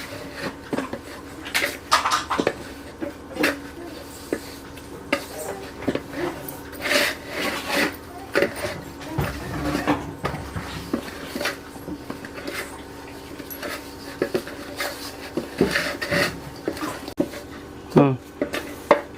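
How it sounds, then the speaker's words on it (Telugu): Flour mixed by hand into a dough in a bowl, heard as repeated close rubbing, scraping and kneading sounds with clinks of the bowl, in an irregular rhythm. "సో మనం చపాతీలు ఎలాగైతే చేసుకుంటామో అలాగా దాన్ని ఒక పిండి ముద్దలాగా దాన్ని కలపాలి."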